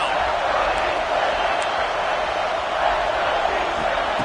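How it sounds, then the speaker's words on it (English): A steady, dense stadium crowd roar from a college football video game, with Texas A&M playing, rising on a third-down defensive play. It holds evenly throughout as a broad wash of noise, with no distinct talk on top. "Decibels rising as the crowd gets behind this defense on 3rd down."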